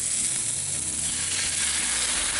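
Shrimp broth poured into seafood paella in a 14-inch Lodge cast iron pan hits the hot pan with a loud, continuous hissing sizzle, close up and steady throughout, with no voices.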